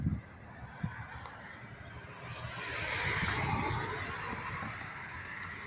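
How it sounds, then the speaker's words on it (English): Birds gather at an outdoor feeding spot, giving a few scattered honking calls over a steady wash of outdoor noise. "my birds are already trying to come"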